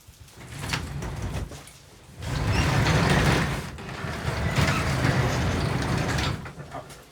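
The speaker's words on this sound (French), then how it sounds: "Ouais, mais j'ouvre la porte de garage." A garage door being opened gives a rumbling, mechanical rolling noise that rises in two sustained surges, fading briefly between them before tailing off.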